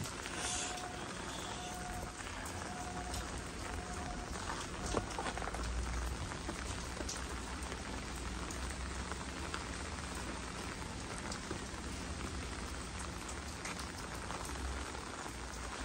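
Rain falls steadily at Enoshima, a dense, even hiss and patter that continues throughout, with a faint tone near the start and occasional soft background noises.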